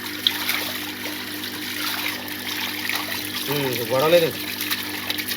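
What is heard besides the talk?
water gushing out of a cleared drainage pipe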